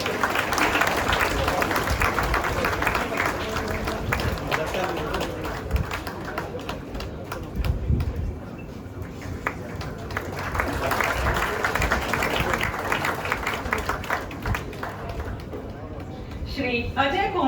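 Audience applause at a railway board retirement function, sustained and fairly loud with a brief dip in the middle before swelling again, while a voice speaks over it.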